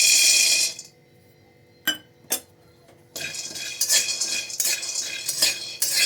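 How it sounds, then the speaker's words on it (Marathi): Peanuts dry-roasting and being stirred in a metal pan for sesame laddu: a burst of scraping and clinking, a near-silent pause broken by two sharp clinks, then steady, lively scraping and rattling close by. "आता आपण शेंगदाणे भाजून घेऊ"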